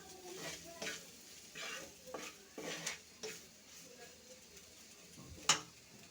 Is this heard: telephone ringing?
no